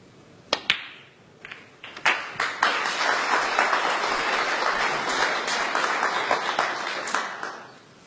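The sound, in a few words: audience applause at a snooker match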